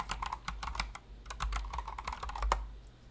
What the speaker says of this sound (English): my keyboard is actually